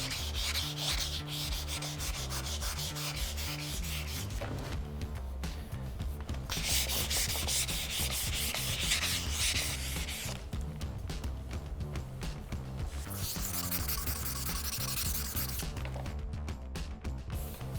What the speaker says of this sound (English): I'm gonna wet sand it with some 500. Just trying to make it nice and smooth.